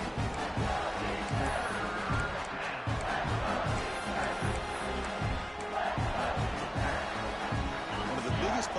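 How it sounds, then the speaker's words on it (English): Stadium crowd roaring and cheering throughout a college football video game championship matchup, a dense, steady wall of noise from many voices with bursts of louder shouting. "the crowd really getting into it"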